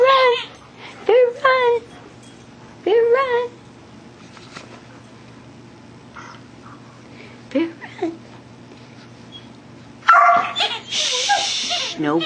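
A dog gives a few short, sharp barks and yips, close by, scattered through the clip, with a person talking softly in between.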